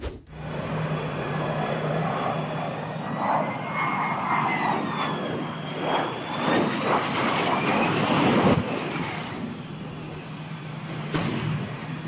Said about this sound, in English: The plane continues making its way down the runway with flames spewing out of the underside.